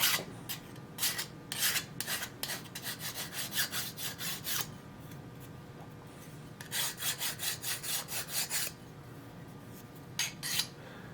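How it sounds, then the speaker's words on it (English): Hand file deburring the edge of a metal guitar control plate, bursts of quick back-and-forth rasping strokes in rhythmic runs with brief pauses, close and fairly quiet, no talking. "And I'll deburr it real quick here with a file. Run a file over it."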